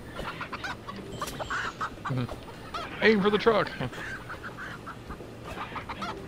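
Chickens clucking in short bursts at mid-distance, loudest for about a second partway through, over steady background rumble while people talk nearby.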